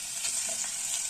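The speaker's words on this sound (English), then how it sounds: "as my oil heats up, I just want it to have the sizzle" Goat meat (mbuzi) dropped into hot oil, giving a steady bright hiss of frying that holds evenly through the short moment with no talking.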